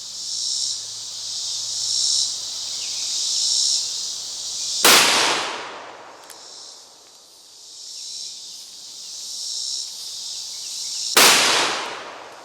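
Two loud, sharp blasts from a .500 Magnum revolver several seconds apart, each with a long ringing decay, set against a steady outdoor chorus of insects.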